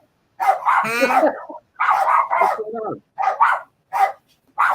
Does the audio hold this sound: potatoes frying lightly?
no